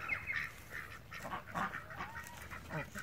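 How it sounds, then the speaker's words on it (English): Ducks gathering at feeding time in a backyard flock with chickens, giving repeated honking quacks at a middle distance over a busy outdoor background, fairly faint overall. "Once the chickens are finished, the ducks will come in."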